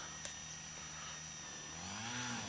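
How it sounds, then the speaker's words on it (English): A lawn mower engine drones steadily in the distance, a faint, even mechanical hum that rises slightly near the end, with no talk. "Today, they're out mowing the lawn."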